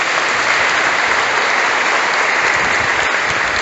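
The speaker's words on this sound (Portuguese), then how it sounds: "Dê uma salva de palmas para Jesus." A Catholic congregation bursts into loud, dense applause for Jesus during a sermon, continuous and uniform clapping filling the hall without pause.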